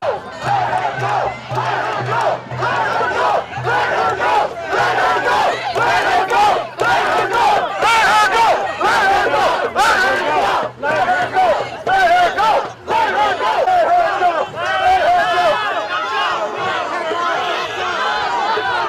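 A pro-Palestine protest crowd outside the White House shouts and yells while pushing back against police. The roar of voices is loud and continuous, with sharp bursts of shouting rising over the chaotic din.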